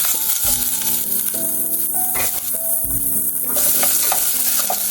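Onion and garlic sautéing in a pan, a dense, loud sizzle with stirring scrapes and light rattles close by, no talk over it.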